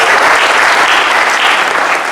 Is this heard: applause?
yes